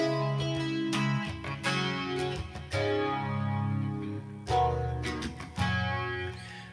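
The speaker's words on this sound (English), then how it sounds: "Yeah, the rolling jazz chords." Rolling jazz chords strummed on an electric guitar through effects with slight distortion and chorus, sustained chords changing every second or so, close and moderately loud with no talking.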